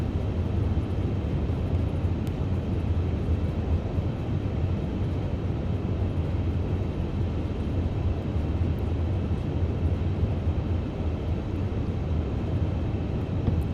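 Airliner rolling out on landing with reverse thrust in Microsoft Flight Simulator, a steady loud broadband engine roar and rumble sustained throughout without speech.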